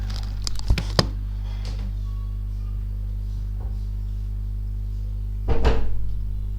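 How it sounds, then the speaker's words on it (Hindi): A door at home is shut by a man during a spiritual lecture, a few sharp knocks and thuds with a louder clunk later on, heard over a steady low electrical hum with no talking. "एक मिनट में दरवाजा बंद करके आता हूँ"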